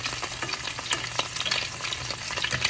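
Food sizzles and crackles in hot grease in a home kitchen, a steady dense frying hiss with scattered sharp pops, close and continuous with no talk.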